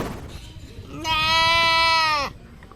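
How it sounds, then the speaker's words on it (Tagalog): A single long, loud bleat from an injured, limping goat in Cabanatuan City, Nueva Ecija, rising from low background noise and ending abruptly. "Tila nagsusumbong naman ang kambing na ito habang iika-ika sa paglakad"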